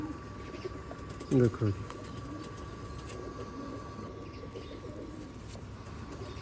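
Pigeons in a loft give a short double coo, close and clear, amid faint background hum, with someone speaking around it.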